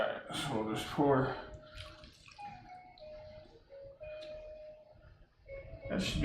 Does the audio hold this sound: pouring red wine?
yes